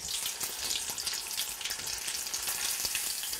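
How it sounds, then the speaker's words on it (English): Pearl onions frying in a pan, a steady bright crackling sizzle running continuously throughout, close and fairly loud, with no talk over it. "You can hear it. Nice sizzle."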